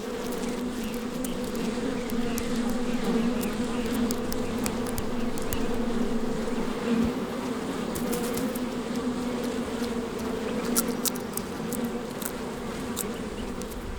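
A dense swarm of thousands of male bees drones steadily in the Sonoran Desert, a loud continuous buzz that never breaks.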